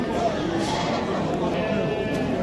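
Many lambs bleat over one another in a noisy crowd at a livestock market, continuous and dense, with people talking throughout.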